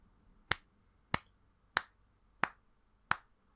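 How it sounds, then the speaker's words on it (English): Five sharp, single hand claps from one person, evenly spaced about two-thirds of a second apart, close and crisp against a quiet room. "I'm going to start clapping"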